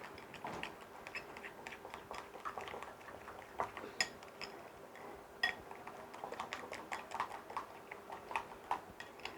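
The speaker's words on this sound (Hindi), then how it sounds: "अब इसको अच्छी तरह मिक्स करना है" A yogurt hair mixture is stirred briskly in a bowl, producing a run of quick clinking and tapping strokes against the sides, close and fairly quiet.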